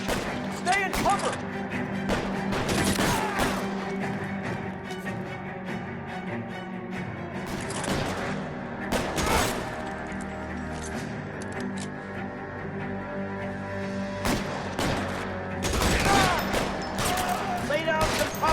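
A shootout in the video game L.A. Noire: scattered gunshots and sharp impacts over continuous background noise, with voices speaking throughout.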